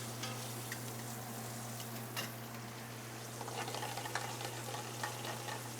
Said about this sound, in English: We're gonna go ahead and get the rack in the pan now.